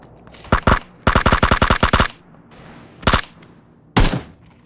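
Automatic gunfire in the PUBG battle royale game: a short burst, a rapid string of about ten loud shots, then two separate bursts, all close and dominant with no talk.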